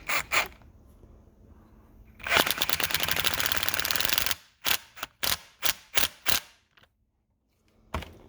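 A socket wrench ratchets on the crankshaft nut of a Honda CT70, a long close burst of rapid clicking followed by several short separate ratchet strokes, then quiet and a final click.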